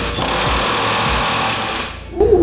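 An impact-style power tool hammers at a stubborn bolt on a car subframe strut top, a loud, close, continuous rattling buzz that fades briefly before surging again.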